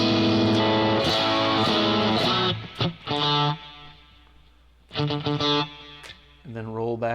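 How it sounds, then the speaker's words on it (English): An electric guitar played through a distorted amp chugs out loud, sustained chords of a riff, stopping and restarting in bursts, with brief speech in the gaps. "You just got to have your amp on some distortion."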